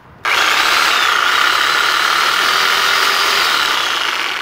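A Graphite 58G971 reciprocating saw starts abruptly and runs steadily with a loud, buzzing whine, continuous and close, no cutting pauses.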